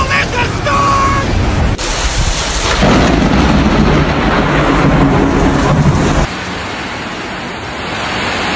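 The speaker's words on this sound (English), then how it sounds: "You call this a storm?" A thunderstorm rolls overhead with a heavy, sustained roar of thunder and pouring rain, loud and close. The rumble swells and holds for several seconds before easing into a lighter wash of rain.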